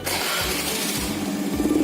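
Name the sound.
engine being started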